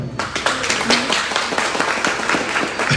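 An audience breaks into loud applause, with dense clapping that starts abruptly and holds steady for a few seconds.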